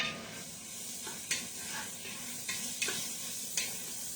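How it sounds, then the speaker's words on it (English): Sweet onions sizzling in a pot for zuppa, a steady hissing fry with a few soft clicks and stirs, fairly quiet and close with no talk. "And I'm going to add the onions."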